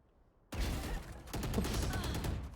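A sudden burst of rapid gunfire erupts after a quiet start, continuing in loud, dense volleys of shots in a ranked Valorant match.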